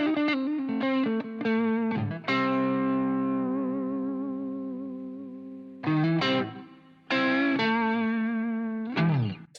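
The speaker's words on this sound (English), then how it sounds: "Very, very nice sounding reverb." An electric guitar played through the Blackstar Jared James Nichols amp plugin with its reverb on: distorted notes and a long sustained chord ringing out and decaying smoothly, followed by more picked phrases with a lush reverb tail.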